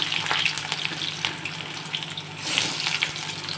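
Potatoes tumble into hot mustard oil with green chilies and set off a continuous, bright crackling sizzle. It stays close and fairly loud, and a fuller surge comes near the end as more pieces go in.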